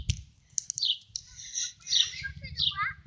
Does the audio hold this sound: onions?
no